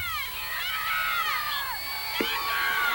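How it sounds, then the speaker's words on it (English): A crowd cheers and shouts steadily at a 1986 high school football game between Vardaman and Tishomingo County, a dense roar of voices with excited high yells and children's shouts throughout. "The crowd is really riled up."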